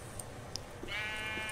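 A sheep in a video game gives a single thin, wavering bleat toward the end, faint and alone over quiet game ambience.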